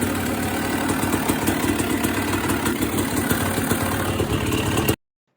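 A restored 1997 Honda CR250 two-stroke motorcycle engine, fitted with an FMF expansion chamber and Power Core 2 silencer, runs loud and steady at close range for about five seconds, then cuts off abruptly.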